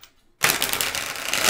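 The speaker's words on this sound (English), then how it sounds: "And let's do 2 shuffles for the main deck." After a brief near-silence, a deck of tarot cards is shuffled close by, giving a steady papery rustle and flutter that runs on without any talking.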